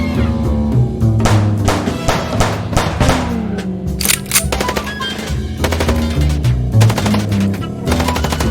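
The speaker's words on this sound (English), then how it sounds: "Shut up and shoot, you big feather" Rapid automatic gunfire and single shots from a shootout in the video game Chicken Police, dense and loud throughout, layered over low music, with repeated bursts and sharp impacts.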